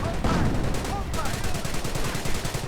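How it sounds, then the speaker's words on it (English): Quad-mounted 2 cm guns on a Wirbelwind anti-aircraft vehicle fire in a World War II strategy video game, a fast, continuous stutter of rapid shots under a commentator's voice throughout. "with its quad mounted 2-centimeter guns tearing through the bits"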